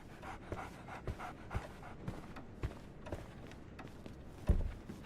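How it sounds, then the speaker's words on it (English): A dog pants rapidly in the Sherlock Holmes The Awakened video game, a quick steady rhythm of short breathy huffs, close and fairly soft, with a sharper thump near the end. "So, Barnes has a dog now."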